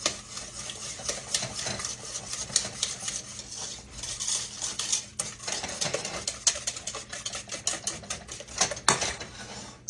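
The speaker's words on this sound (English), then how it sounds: "I want to stir this up first. I'm going to mix my sugar and my eggs real good." Sugar and eggs are stirred together in a bowl, a quick run of close, rhythmic clicks and scrapes of a utensil against the bowl's sides, continuing without voices.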